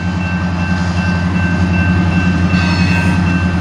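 CSX single-engine manifest freight train of hoppers passing in Fostoria, Ohio: a loud, close, continuous rumble with steady wheel noise on the rails and a faint squeal late on, no voices.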